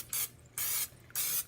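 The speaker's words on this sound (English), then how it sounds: "this is a 9 by 12 pan, I'm going to lightly spray it" Three short bursts from a pure olive oil spray can coating a 9 by 12 baking pan, each hiss lasting about a quarter second with brief quiet gaps between, close and fairly soft.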